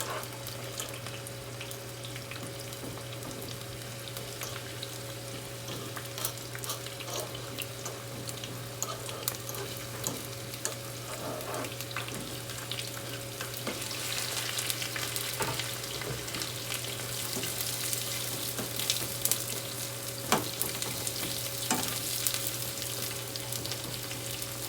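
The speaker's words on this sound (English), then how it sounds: "sauteing my onions and peppers and" Onions, peppers, scallions and tomato sautéing in a hot pan: a soft, steady sizzle with occasional stirring clicks and crackles, gradually growing brighter.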